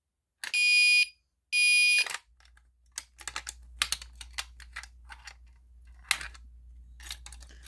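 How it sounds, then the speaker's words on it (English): A fire alarm set off from a Simplex break-glass pull station, sounding through a Gentex Commander 3 horn: two loud, steady tone bursts about a second each, followed by a scatter of sharp clicks and rattles over a low hum. "So let's go ahead and pull the fire alarm."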